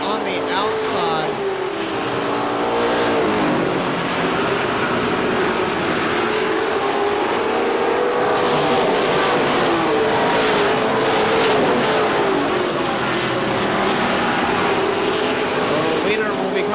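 Race cars battle for position at KilKare Speedway, their engines roaring continuously as they pass, with the pitch rising and falling while an announcer talks over the sound.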